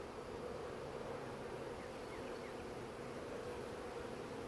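A swarm of honey bees buzzes loudly and continuously, a dense, even hum of many wings close by with no talking.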